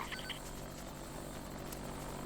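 Helicopter in the SOCOM US Navy Seals II video game: a steady rotor drone with a low rumble holding at an even level throughout, continuous and moderately loud with no talk over it.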